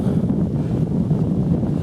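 Rough, buffeting wind blows steadily against the microphone at a wet meadow lake fishery, a low continuous roar with gusty fluctuations.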